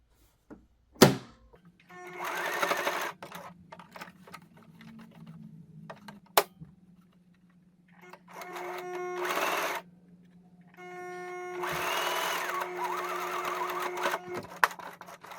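A sewing machine stitches a shirt pocket in three bursts of steady, close mechanical whirring, separated by short pauses and a couple of sharp thunks as the fabric is turned.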